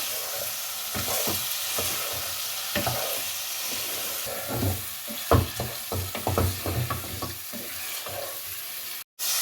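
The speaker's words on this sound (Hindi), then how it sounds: "अब इसको शलजम के साथ अच्छे तरीके से मसाले को भून लें" Boiled turnip pieces are sautéed with masala and softened tomatoes in a pan: a steady close sizzle broken by repeated spatula stirs and scrapes, with no voices.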